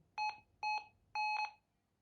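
A Minelab Gold Monster metal detector gives three short electronic beeps over iron, steady-toned and evenly spaced, the last one held a bit longer, against a quiet background.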